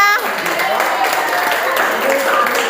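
Children in a classroom applaud together, a dense, steady patter of clapping held at even loudness throughout, with young voices chattering over it.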